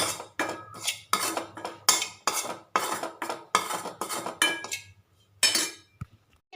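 A spoon scrapes and knocks rhythmically against a bowl as salt and spices are mixed into potato, about a dozen close, even strokes, then a short pause and one more.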